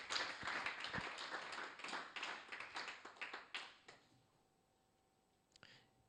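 A church congregation breaks into clapping, loose irregular claps that thin out and stop after about four seconds, leaving near silence with a few faint taps.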